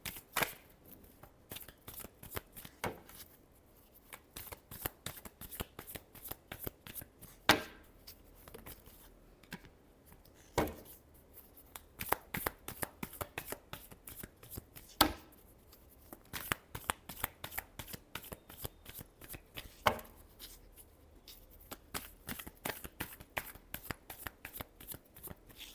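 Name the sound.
tarot cards being shuffled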